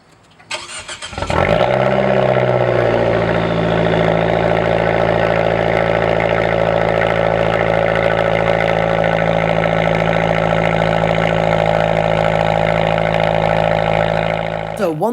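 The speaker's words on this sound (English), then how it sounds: "It has a 175 horsepower engine that sounds absolutely amazing" An Abarth hatchback's 175-horsepower engine cranks and starts with a brief rising rev, then settles into a steady, loud, raspy idle that holds for the rest of the time.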